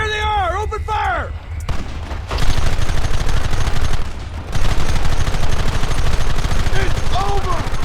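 Heavy, continuous gunfire in the Red Dead Redemption video game, a loud, dense fusillade of many guns firing at once that builds after a brief lull, with shouted voices near the start and end.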